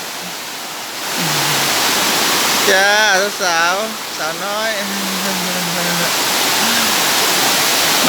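Sai Yok Noi waterfall, a full-flowing cascade over limestone rock, roars as a steady, loud broadband rush throughout, with people talking and calling out over the noise.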